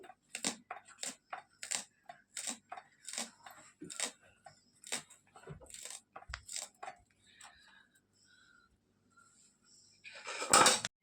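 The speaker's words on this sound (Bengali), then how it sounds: "এই পেঁয়াজগুলোকে কুচিয়ে নিই, আর ধনে পাতা, কাঁচা লঙ্কা কুচিয়ে নিচ্ছি।" A knife chops onions, coriander leaves and green chillies on a board in quick, rhythmic bursts of crisp taps, then pauses near the end before a final louder clatter.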